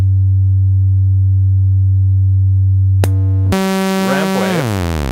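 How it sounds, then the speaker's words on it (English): A modular synth oscillator holds a steady, loud sine tone for about three seconds, then switches to a buzzier, harmonically rich wave that sweeps in pitch. "I've built 2 of these oscillators, and this oscillator produces sine, triangle, ramp waves"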